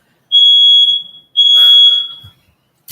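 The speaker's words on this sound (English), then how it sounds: "that is my smoke alarm" A home smoke alarm sounds two long, loud, piercing high-pitched beeps about a second each, separated by a short gap, followed by quiet.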